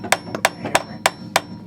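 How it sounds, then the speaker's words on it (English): A hammer taps on a car's half shaft nut to knock it loose, six sharp metallic strikes evenly spaced about a third of a second apart, close up and fairly quiet. "just a lot of tapping and you'll eventually get it"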